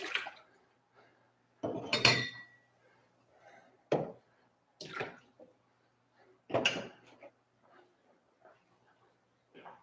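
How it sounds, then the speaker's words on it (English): Dishes and cutlery clatter at a kitchen sink during washing, with several sharp clinks and clunks spaced a second or two apart, fairly close, against a quiet room with no talking. "Got to do some dishes."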